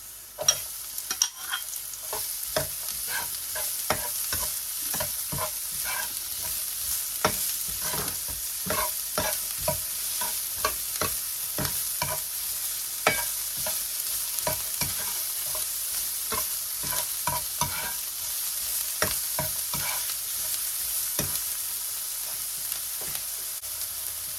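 Garlic and onion frying in oil for fish sarciado, a steady sizzle broken by many sharp crackles and spatula scrapes throughout, close and moderately loud.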